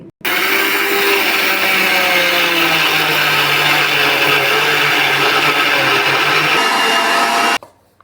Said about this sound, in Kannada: ಎಲ್ಲನೂ ಮಿಕ್ಸಿ ಜಾರ್ ಒಳಗೆ ಹಾಕಿ ನುಣ್ಣಗೆ ರುಬ್ಕೋಬೇಕ್ರಿ